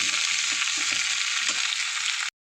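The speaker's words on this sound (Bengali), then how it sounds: "ফাইনালি চচ্চড়ি আনাজটা ভাজা হয়ে গেল" Vegetables for a Bengali chorchori, including malabar spinach stems, fry in hot oil in a pan, a steady loud sizzle with faint stirring scrapes that cuts off abruptly, no voices.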